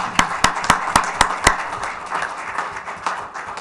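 Six sharp hand claps in a steady rhythm at a town council meeting, close and distinct, then settle into a softer scattered patter of light applause.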